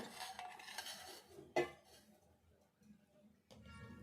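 Cleaned tripe (boti) is rinsed in a metal vessel with a little salt, producing soft wet sloshing and scraping, a sharp clank of the vessel midway, then more water rinsing, close and fairly quiet.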